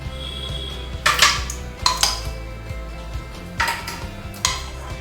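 A metal spoon scrapes and clinks against a pan while scooping out fried asafoetida, making several sharp, close knocks spread over a low, steady background. No one speaks.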